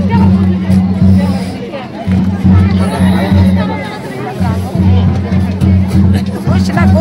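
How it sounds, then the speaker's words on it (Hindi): Dense crowd chatter fills a busy wedding party, many voices blending into a steady hubbub over a loud, droning low hum that pulses in and out. "पूरा बहुत भीड़ है यहाँ लगी"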